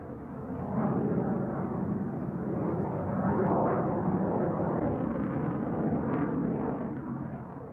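A Lockheed U-2 aircraft in flight produces a steady broadband roar, a continuous rumbling drone that swells slightly and holds at a fairly loud level throughout.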